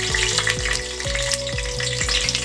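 Six or seven whole green chillies fry in hot oil with whole garam masala in a pressure cooker for chicken biryani, giving a steady close sizzle over background music.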